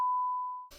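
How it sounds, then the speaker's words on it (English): A steady, pure electronic censor bleep covers a spoken name, holding one unbroken tone for about seven tenths of a second before cutting off into faint background sound. "we might have to like bleep his name out"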